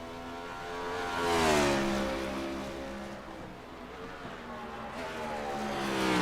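Race cars in a Bump N Run Cup Series event on the Chicago street course, engines rising and falling in pitch as they pass, swelling loud around the second second then easing to a steady nearby drone.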